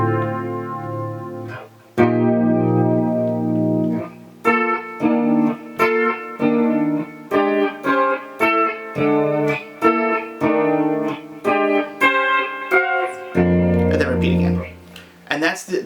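Electric guitar playing a sequence of major 7 sharp 11 chords, heavily processed with effects, with short rhythmic chord stabs between longer sustained chords, loud and up close.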